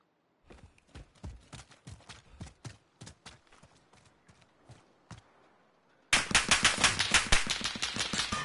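Video game gunfire pops in a fast run of separate shots, then gives way to a much louder, denser stream of rapid automatic fire that continues to the end.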